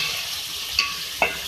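Beef with ginger garlic paste being mixed and fried, a continuous hiss of frying broken by two short spoon scrapes, close and without voices.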